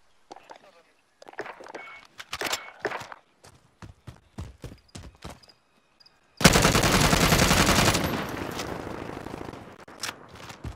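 Rapid bursts of gunfire from a tactical-stock rifle with a .45 round magazine, loud sharp shots in quick uneven volleys, then a sustained dense roar of continuous fire that fades into a few scattered final cracks.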